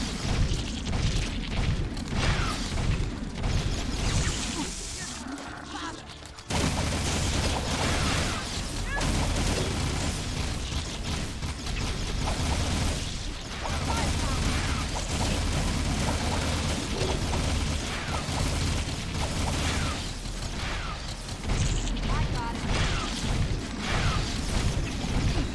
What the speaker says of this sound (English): good thing I have the upgraded scatter gun